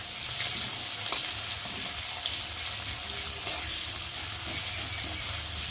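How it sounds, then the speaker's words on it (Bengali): Chopped onion and green chilies fry in hot oil, giving a steady close hiss and crackle with a few brief pops, heard alone. "তেল দিয়েছি, আর এখন দেব পেঁয়াজ কুচি, দেবো দুটো লঙ্কা কুচি।"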